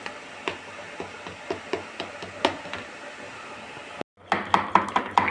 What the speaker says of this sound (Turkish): 2 yumurta, 3 kaşık un, 2 kaşık yoğurt. Şöyle güzelce çırpıyorum.